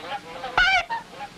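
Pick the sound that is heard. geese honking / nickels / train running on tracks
geese honking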